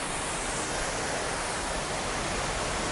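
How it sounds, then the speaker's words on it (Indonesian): Small waterfall at an eco retreat villa in Bali, a steady wide roar of falling water heard without pause or voices. "air terjun kecil"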